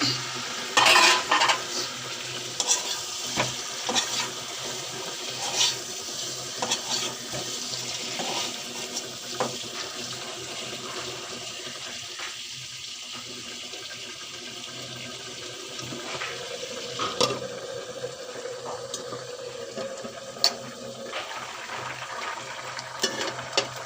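Chicken pieces and potatoes stirred and frying in a pan with turmeric, chilli and cardamom, a moderate sizzle broken by repeated spoon scrapes and clanks, close by with no voices.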